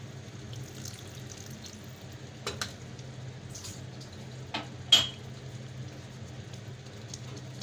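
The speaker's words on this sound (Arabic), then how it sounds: "هحط كده شويه ميه بسيطه" Tomato sauce for Dawood Basha kofta pasta sizzles steadily in a pan as a little water goes in, with a few light clinks of utensils over the continuous hiss.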